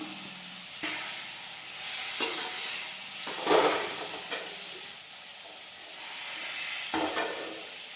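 Ivy gourd sautéed with onion and tomato sizzles gently in a pan, a soft steady hiss broken by several scraping stirs and clinks of a spoon, fairly quiet and close with no talk.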